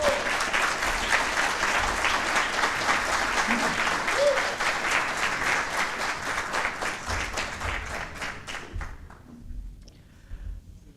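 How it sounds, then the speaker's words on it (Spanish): A conference audience gives applause for a presenter, a long dense round of clapping that holds steady and then thins out and fades to near silence near the end. "un fuerte aplauso para Ignacio Posler."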